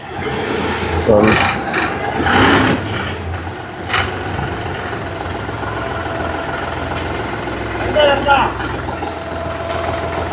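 A combine harvester's engine drones steadily while it cuts a crop in a field, with rasping cutting noise rising at moments and someone talking over it.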